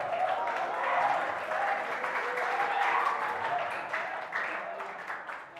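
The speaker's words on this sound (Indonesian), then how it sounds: "Tepuk tangan untuk si Aeta." A crowd of students claps steadily in a classroom, the applause dense, sustained and close, with a faint voice underneath.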